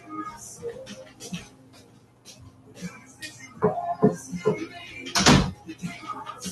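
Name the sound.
closing a bedroom door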